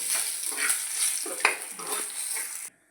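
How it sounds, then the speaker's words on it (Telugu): Bay leaves fry in oil in a pan, a close crackling sizzle with a few stirring scrapes, cutting off abruptly near the end. "అదే ప్యాన్లో ఇంకాస్త ఆయిల్ పోసి తర్వాత బిర్యానీ ఆకులు కూడా ఫ్రై చేసుకోవాలి"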